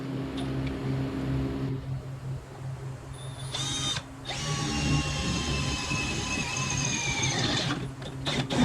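A high whining power drill runs steadily, pausing briefly and starting again as it bores holes in a Buick's body at the tail light, with a low hum underneath.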